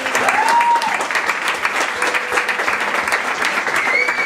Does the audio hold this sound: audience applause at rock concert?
yes